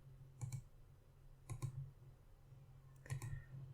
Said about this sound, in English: right click here and delete